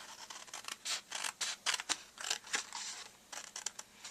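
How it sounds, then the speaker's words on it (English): Scissors cut paper to make a Halloween candy box, with a quick series of crisp, close snips and short slicing runs in a quiet room. "on the other end, I'm going to cut all the way down the side"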